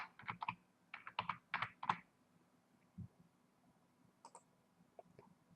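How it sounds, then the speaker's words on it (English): Computer keyboard typing a city name: two quick clusters of crisp key clicks, close and clear, followed by a few scattered single taps in a quiet room. "Then we select the city, we type in the name"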